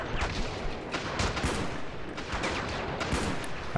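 Rapid gunfire crackles through a Ravenfield battle between Roman soldiers and barbarians at a castle, with dense, continuous overlapping shots and bursts carrying loud and steady throughout.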